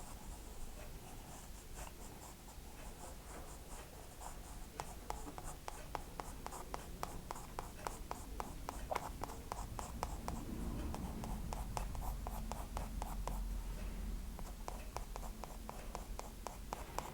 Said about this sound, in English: I'm just going to draw in some wiggly lines